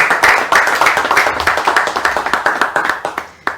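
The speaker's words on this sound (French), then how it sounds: "Alors, est-ce qu'on peut applaudir pour ce témoignage?" Studio audience on a French-language television talk show clapping after a testimony, a loud burst of individual hand claps with a distinct rhythmic pattern that tapers off near the end.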